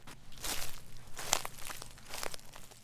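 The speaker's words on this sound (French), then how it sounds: "Il y eut un froissement de buissons dans le fourré." Bushes rustle in a jungle thicket in a French Jungle Book audiobook, soft crunching, crinkling bursts like something moving through dry leaves and brush, faint and irregular, with no voices.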